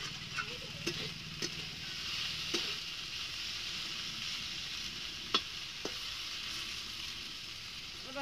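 Garlic and spice paste fries with a constant close hiss, broken by a few sharp clinks and scrapes of a spoon stirring against the pan, with no talking.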